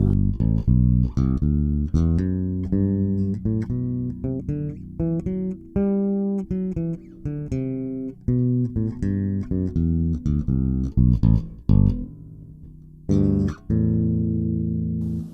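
A bass guitar plays a run of notes up and down a scale with a bouncy, swung rhythm, clear and close with no talking.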